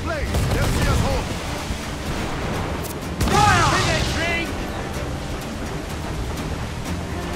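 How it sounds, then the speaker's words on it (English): Cannon fire aboard a sailing ship during a naval battle in Assassin's Creed IV Black Flag: heavy booming blasts over constant sea and crew noise, with a loud burst near the middle and voices shouting throughout. "Incoming fire! Raise for impact! Here it comes!"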